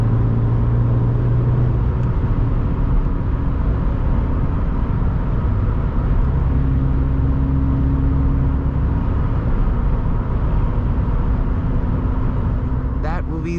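2013 Subaru BRZ with a 6-speed automatic driving on a winding road, a steady engine hum and road drone from inside the cabin with shifting tones, while a person talks over it.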